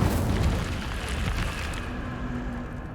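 A fire spell blasts in the Hogwarts Legacy video game, a loud, dense roaring burst that holds steady for about three seconds with a low rumbling body.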